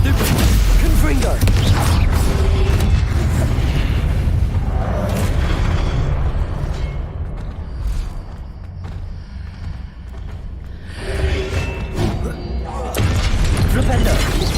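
Spell blasts and explosions in the video game Hogwarts Legacy, including the Confringo fire spell, with loud booming bursts that fade into a quieter stretch in the middle before more impacts return, under occasional speech.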